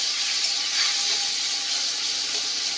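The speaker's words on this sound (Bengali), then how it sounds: "তো এবারে আমি দিয়ে দিচ্ছি একটু জল" Water poured into a hot spice mixture in a pan over a low gas flame, cooking a spicy pomfret fish curry, gives a steady, close hiss and sizzle that runs for about three seconds with no voices.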